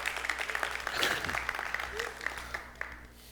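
An audience clapping at a film masterclass, a continuous spread of applause with distinct individual claps standing out, while a voice briefly sounds beneath it.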